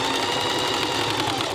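A sewing machine stitches rope with a steady, even mechanical whir, close and continuous without pauses.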